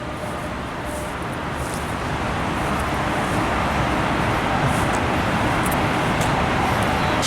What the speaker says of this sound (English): It's a little noisy with all the trucks